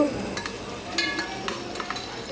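Tomatoes fry with ginger-garlic paste in a hot pan, giving a steady close sizzle broken by several scraping stirs of a spoon against the pan. No one speaks.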